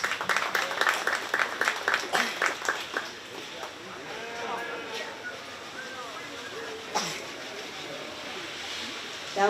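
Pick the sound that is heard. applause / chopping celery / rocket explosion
applause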